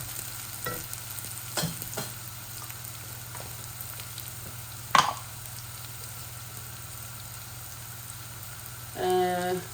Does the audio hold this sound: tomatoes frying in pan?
yes